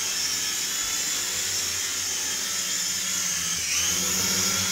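The small rotor of a Syma S026 Chinook toy helicopter whirs in a high, steady buzz that rises slightly in pitch near the end, with no voices.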